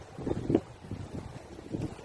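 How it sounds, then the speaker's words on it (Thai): Strong wind by the sea buffets the microphone with continuous low rumbling gusts and uneven surges. A steady, close, roaring texture runs throughout, with no talk over it. "ลมแรง"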